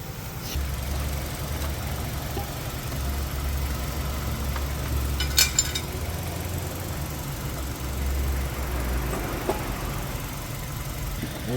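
A car engine keeps idling with its battery removed during a steering shaft repair, a steady low rumble close by with a faint knocking pulse and a brief metallic clink midway.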